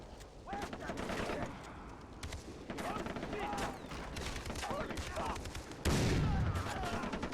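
Guns fire in Far Cry 3 as a dense, continuous run of shots, a heavy blast near the end, over game noise and a voice talking at times.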